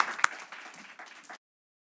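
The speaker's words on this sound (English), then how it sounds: "Let's give them all a round of applause for that." A room of attendees at a policy panel on the US-Mexico pharmaceutical supply chain breaks into applause, a dense patter of clapping with one sharp nearby clap, lasting just over a second before stopping abruptly.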